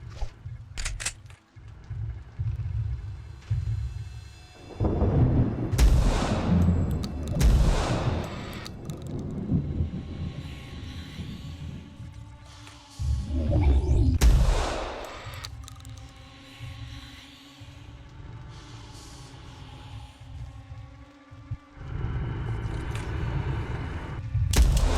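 An enemy-vaporizing gun in the game Phantasmal fires with heavy booming, rumbling blasts that swell and fade in several waves over a droning game soundscape.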